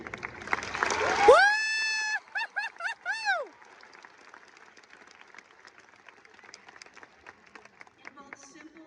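A graduation audience bursts into dense applause for about a second, followed by a voice calling out a few whooping tones. The room then falls to a quiet hush.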